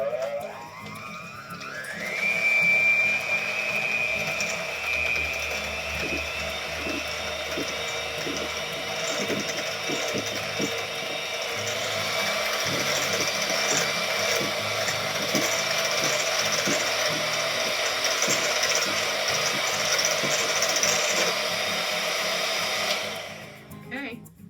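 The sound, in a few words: electric mixer running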